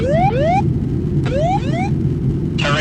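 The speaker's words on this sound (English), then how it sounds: "The ground proximity warning system cues in the cockpit began sounding a loud alarm" A loud cockpit ground proximity warning alarm sounds in repeated rising electronic sweeps, with pauses between them, over a steady low rumble from the aircraft.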